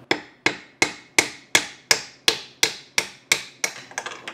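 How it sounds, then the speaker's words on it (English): Eleven sharp metal hammer blows drive an old bushing out of a 1964 Triumph TR4 part through a 5/8 socket, evenly spaced and close, with a quicker, lighter flurry of taps at the end. "just hammer the bushing out."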